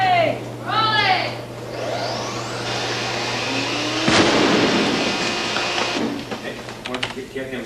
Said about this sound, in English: A second breakaway model is rigged with even more explosives